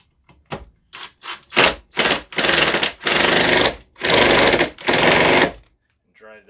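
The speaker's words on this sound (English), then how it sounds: "Drill a pilot hole here." A power drill bores a pilot hole in metal on a workbench, running in a series of short and longer whirring bursts separated by brief pauses, loud and close.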